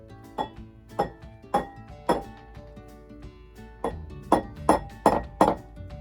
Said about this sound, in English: Make sure you crack it on the side of the bowl.